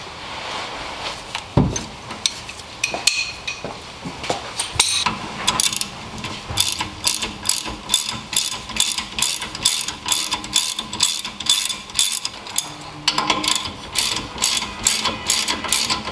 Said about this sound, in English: remove this 17 and the other 17 that you can't see